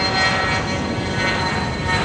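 An airplane passes overhead at an outdoor film shoot, its engine a loud, steady broadband roar that fills the whole moment without a break and with no voices over it.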